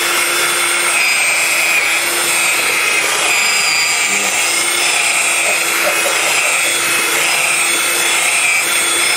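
A cordless electric drill churns Nutella vanilla variegate ice cream with a steady, loud whirring drone. It runs without a break for the whole stretch, with a bright mechanical hum layered over coarse grinding noise.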